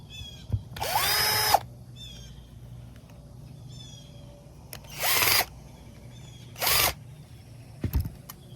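Power drill driving screws into a carburetor on a Murray Select MS 2560 mower, three short bursts of whirring with pauses between them, close and fairly loud.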